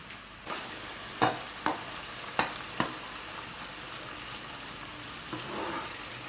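Suji and besan halwa cooking in a pan over medium heat, with a soft background sizzle broken by several distinct scraping stir strokes at irregular intervals, close and fairly quiet.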